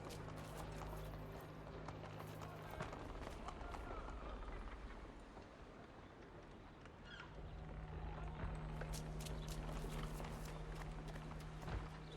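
A horse's hooves clop at a run in Assassin's Creed III, a steady galloping rhythm under a continuous game ambience, with some nearby talk.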